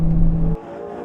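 Ferrari 812 Competizione's 6.5 litre V12 at Fiorano, a loud low droning engine note held for about half a second, then cutting off abruptly into a faint fading tail.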